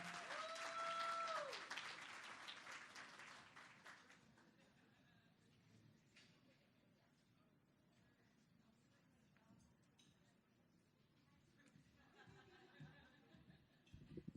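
Applause from an audience at a morning chamber of commerce business event, loud at first, then thinning into a scattering of claps, light chatter and laughter that carry on under the room noise.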